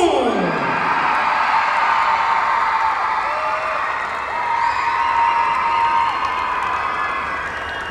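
A crowd cheers and whoops loudly and steadily at a Hmong New Year dance contest in Minnesota, with shouts and yells rising over a continuous roar.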